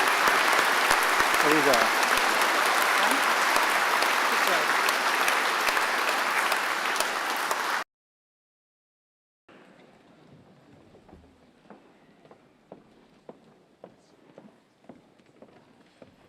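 Loud, dense applause fills a degree ceremony hall in Birmingham for about eight seconds, then cuts off; after a pause, quiet room noise follows with scattered knocks and a voice speaking briefly.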